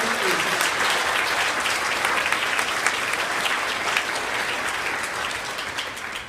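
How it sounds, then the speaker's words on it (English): An audience at a school awards ceremony for third and fourth graders claps for four students, a sustained burst of dense, even applause filling the room. "Give them applause for 4 students."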